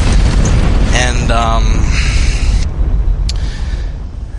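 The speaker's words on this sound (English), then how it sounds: "we'll let the explosion noise go" A played-back explosion sound effect booms and rumbles loudly for a few seconds, fading into a low roar, with a brief sharp hit near the end.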